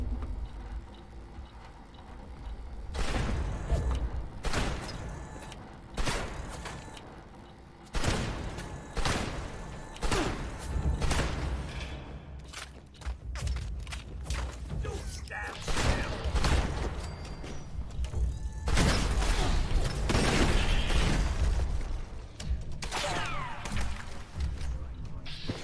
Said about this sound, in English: The sound of that gunfire just sounds like it's so painful.